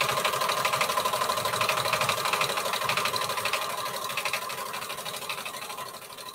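A sewing machine set to its highest speed runs in a fast, even rattling stitch, loud and close, slowing slightly toward the end with no voices over it.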